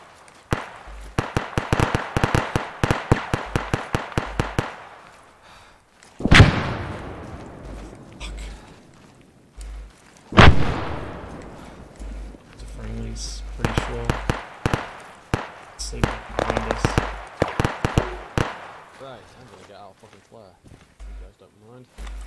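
Combat mission in a video game set in Afghanistan, 1980: rapid bursts of automatic gunfire alternate with heavy single blasts that ring out and decay, loud and close, with players talking between volleys.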